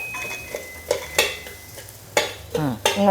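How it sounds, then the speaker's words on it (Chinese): A spatula scrapes and clacks against a wok as sambal belacan is dry-fried without oil, giving a few sharp, irregular metallic knocks and scrapes close by over a faint sizzle, with a brief voice near the end. "我是用来这个锅哈稍稍炒一下"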